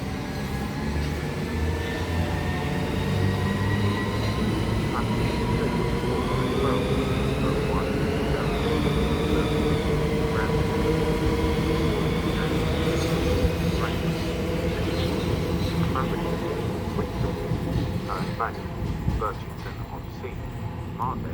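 A six-coach passenger train pulls out of Chatham station, with a continuous rumble and rising electric motor whine that holds steady and fairly close for over twenty seconds.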